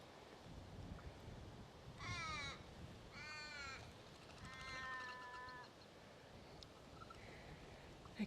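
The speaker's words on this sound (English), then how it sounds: "That's a happy crow." A crow visiting a garden for morning scraps gives three rasping caws in a row, the last one longer, heard faintly at a distance against quiet outdoor background noise.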